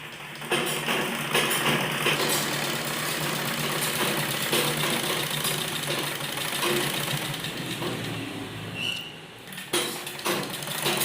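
An electric sewing machine stitching the folded hem of palazzo trousers gives a steady mechanical whirring drone that runs almost without a break, briefly easing near the end.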